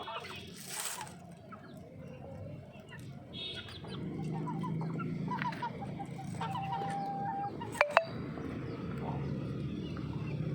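A hen clucks repeatedly in a home yard where she has laid an egg up high, with steady mid-distance calls over soft outdoor background and a couple of brief knocks near the end.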